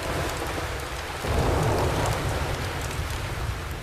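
Steady rain pours down in the Australian outback, a dense continuous hiss that swells a little louder after the first second and keeps falling evenly, with a faint low rumble underneath.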